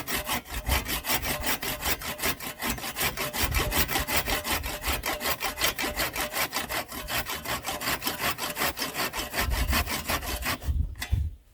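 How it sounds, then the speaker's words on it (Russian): Firewood is sawn with a bent metal grill used as a makeshift saw at a lakeside camp on Lake Seliger, giving loud, close, rapid back-and-forth rasping strokes in a steady rhythm that stop abruptly at the end. "Эту решетку приспособил, чтобы пилить дрова."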